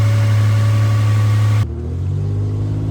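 A 1997 Toyota 4Runner's engine runs loud and close with a steady low hum, then the tone abruptly shifts lower and rougher as the truck sets off on a test drive after timing belt and water pump work.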